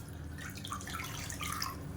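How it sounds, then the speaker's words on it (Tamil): Water poured from a cup into a hot kadai, a steady, faint liquid splashing and trickling that runs throughout without any voices. "இப்போ அதே கடாயில் இப்போ எந்த கப்பில் வந்து நம்ம மாவு எடுத்தோமோ அதே கப்பில் ஒரு கப் அளவுக்கு தண்ணி சேர்த்துக்கலாம்"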